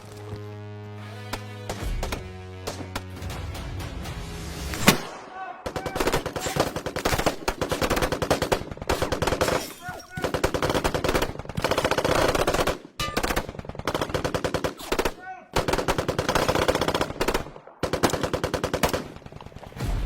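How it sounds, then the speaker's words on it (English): Rifle gunfire in a combat firefight, bursts of loud, rapid automatic shots and repeated single cracks going on almost without pause, close and dense, with no talking. "So, we take cover and return fire."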